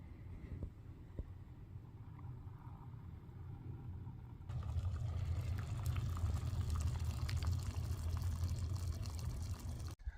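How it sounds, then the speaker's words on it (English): A Stoke Voltaics JOULLE electric kettle running, a steady low rumble with a soft hiss that suddenly swells and grows louder partway through as the water heats toward a boil, continuing alone to the end. "let's fill this thing up and I'll show you how quick this thing gets water boiling"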